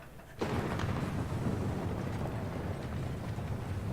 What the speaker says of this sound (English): Doctor, the fortress is collapsing.